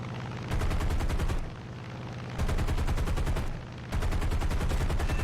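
F6F3 Hellcat machine guns strafing in War Thunder: three loud, rapid rattling bursts of fire, each about a second long, separated by brief gaps where the engine drone carries on underneath.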